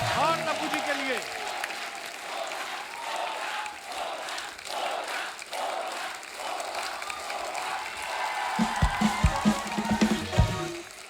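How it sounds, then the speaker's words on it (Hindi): A studio audience on a comedy show applauds and cheers, a broad, sustained crowd roar with clapping, while a host speaks over it and louder voices and claps rise near the end. "जोरदार तालियां हो जाए अजय साहब के लिए और तब्बू जी के लिए"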